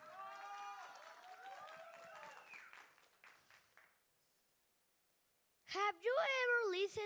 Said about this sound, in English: Claps for him, please.